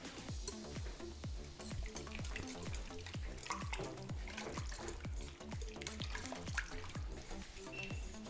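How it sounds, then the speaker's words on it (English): Very softened butter being whisked in a bowl for peach cinnamon roll dough, with steady, brisk strokes repeating about twice a second, close and clear, with no talking. "You can just whisk it in, because it will be, yes."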